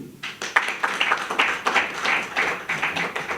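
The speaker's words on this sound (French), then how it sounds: "Nous pouvons applaudir." A crowd at a UDPS political rally claps together in a steady run of sharp, overlapping claps that keeps going for a few seconds, close and moderately loud.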